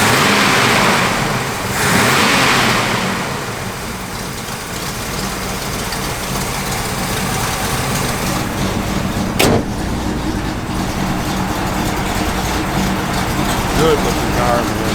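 A 1968 Pontiac Firebird with a lumpy cam runs loud and close, a steady rough engine rumble with revving swells, a brief sharp knock partway through, and talk mixed in.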